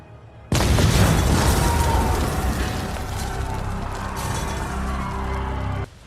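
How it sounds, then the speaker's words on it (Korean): A car bomb goes off in a disaster film terror scene: a sudden loud boom erupts after a quiet moment, then a long roaring rumble of debris and fire that holds for several seconds before cutting off. "캐나다 총리가 차량 폭탄 테러로 사망하고"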